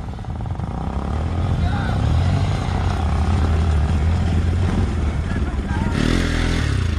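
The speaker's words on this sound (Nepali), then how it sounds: "बाइक गएन ल रञ्जित" A motorcycle with a misfire-modified silencer, stuck on a muddy off-road track, holds a loud, steady, droning rev close by, with voices shouting over it.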